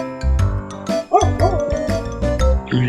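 Dog barking in a survival video game, repeated short barks and yips close up, mixed with game sounds and a voice.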